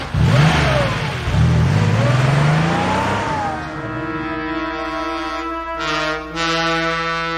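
A car engine in a radio drama revs hard with rising and falling pitch, then settles into a steadier mid-range drone, loud and close with no voices.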